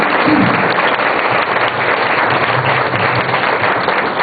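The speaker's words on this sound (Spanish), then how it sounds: "El padre Saverio, un aplauso para él" Audience at a Carmelite gathering gives Father Saverio Canistrá, a Carmelite general official, a loud, sustained round of applause, dense clapping filling the room evenly throughout.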